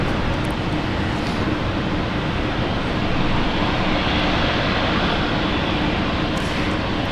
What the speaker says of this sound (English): A typical 737-8 landing right there